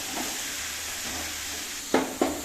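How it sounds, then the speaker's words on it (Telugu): Gongura (sorrel) leaves fry in a pan with a steady broad hiss and sizzle, and two sharp clinks of a spatula against the pan near the end, close and alone. "చక్కగా గోంగూర వేయించుకోవాలి"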